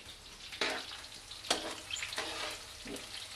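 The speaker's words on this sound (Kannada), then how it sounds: "ಹಸಿರು ಮೆಣಸಿನ್ಕಾಯಿ ಹಾಕ್ತಾ ಇದ್ದೀನಿ ಎಣ್ಣೆಗೆ. ಸ್ವಲ್ಪ ಚಟಪಟ ಅನ್ಬೇಕು." Green chillies fry in hot oil, a soft continuous sizzle broken by several sharp crackling bursts spaced about a second apart, close and fairly quiet, with no talking.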